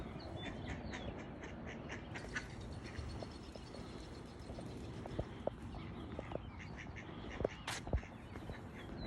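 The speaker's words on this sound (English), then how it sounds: "I got 2 ducks that came over to greet me." Two ducks quack softly close by outdoors, their faint calls scattered over low rustling and footstep-like scuffs, with no clear speech.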